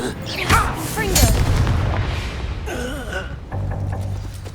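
A Confringo blasting spell goes off in the Hogwarts Legacy video game: a loud, close explosive boom with a burst of debris, followed by voices talking.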